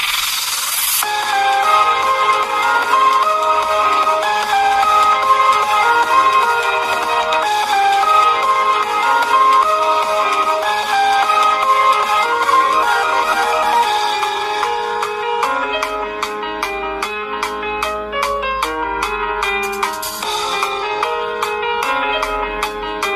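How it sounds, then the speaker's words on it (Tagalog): Music playback through the single built-in speaker of a ZTE Blade A72S phone, a steady bright and treble-heavy tune with a shift to choppy rhythmic beats partway through, continuous and fairly loud. "Ito ang tunog ng speaker."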